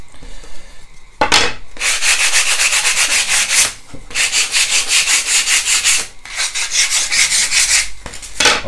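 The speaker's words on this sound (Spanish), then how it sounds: "ahora una vez que ya están lijadas" Handmade bricks cast in a silicone mold being sanded by hand for scale modelling, loud rhythmic scraping strokes in three long runs separated by short pauses.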